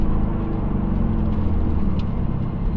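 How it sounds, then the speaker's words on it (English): A car fitted with a solid transmission mount runs steadily, its engine and transmission giving a continuous low droning hum at a constant level throughout, close and moderately loud with no talking. "And I think I can hear it, the transmission, and of course my brakes."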